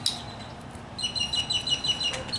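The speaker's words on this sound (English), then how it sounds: "I'm outside, so if you hear some birds and stuff, it's good." Birds chirping outdoors, faint repeated high tweets in a quick rhythmic series over quiet background hiss, somewhat distant and alone without talk.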